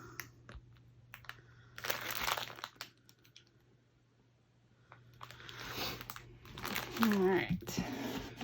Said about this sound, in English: So don't mind the crinkling.